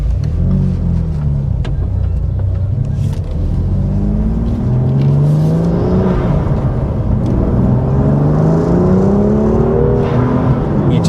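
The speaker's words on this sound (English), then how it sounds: "the sound of that induction system and the turbo spooling up is" A remapped BMW M2 Competition with six-speed manual and anti-lag revs hard, its induction roar and turbo spool rising in long sweeping pitch climbs across several gear pulls, loud and continuous inside the car.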